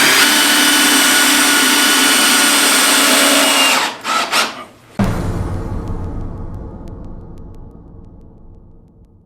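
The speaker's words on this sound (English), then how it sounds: "bore into it and you see the board raise up, you back it out and then you re-drive it" A power drill whirs loudly while driving screws into a wooden board for an axe and knife throwing target, then stutters and stops. A sharp knock follows, and a lower hum fades away.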